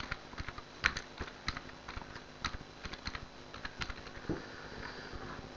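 Fingers type text on a computer keyboard for graphic design software, a steady run of light, quick key clicks with uneven rhythm and a few louder taps, close and quiet with no talking.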